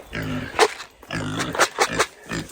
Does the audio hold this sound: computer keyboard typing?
no